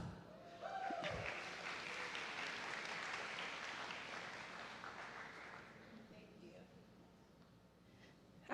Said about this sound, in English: Y'all give Dr. Brown a round of applause.